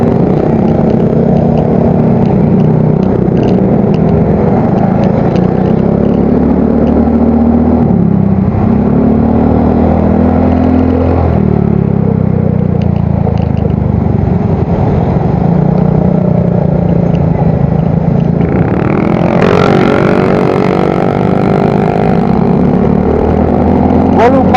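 A motorcycle fitted with a replaced aftermarket exhaust rumbles and revs nearby, a deep, bassy engine note that swells and climbs sharply toward the end, with people talking over it.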